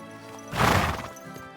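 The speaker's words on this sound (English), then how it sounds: "I got a horse again." A horse in a video game gives a short, loud whinny alongside a brief clatter of hooves, a single burst rising out of a quieter game soundscape.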